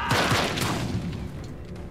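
A burst of gunfire in the video game Days Gone crackles with sharp repeated cracks over a dense, noisy game soundscape, loud and close.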